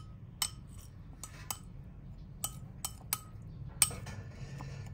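A metal utensil stirs chili fish sauce with toasted rice powder in a bowl, giving sharp scattered clinks and taps against the bowl over a quiet background.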